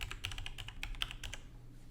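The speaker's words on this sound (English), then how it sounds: "So I'll just type in the password" A password is typed on a computer keyboard: a quick, steady run of close, light key clicks with no talking.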